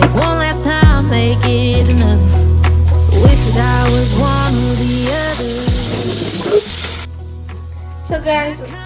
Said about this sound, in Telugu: చికెన్ అయితే మొత్తం ఫ్రై అయిపోయింది